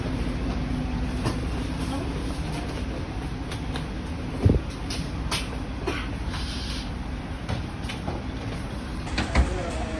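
Steady low rumble inside a moving executive-class train carriage departing Gambir, Jakarta, with occasional clicks and knocks from the tracks and fittings.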